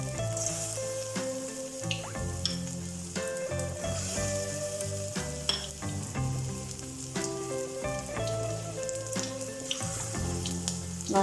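Chicken pieces for restaurant-style chilli chicken frying in hot oil over a moderate flame, a continuous crackling sizzle that runs under background music throughout.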